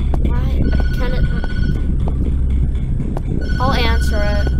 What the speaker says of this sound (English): Hint, don't answer the phone.